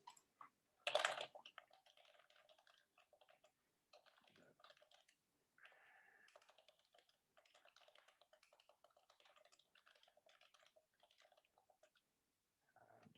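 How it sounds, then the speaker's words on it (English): Irregular, soft key clicks come from someone typing on a computer keyboard during an online training session. The clicks are faint and near, with occasional short pauses and one slightly louder clatter early on. "Just typing in some more characters just to see what the cost will come up with."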